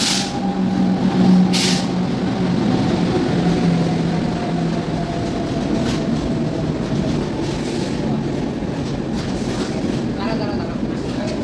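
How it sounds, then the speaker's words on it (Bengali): A train rolls into a station platform with a steady loud rumble and rattling wheel noise, plus a sustained tonal whine, under crowd murmur and a few voices. "ট্রেন আসছে"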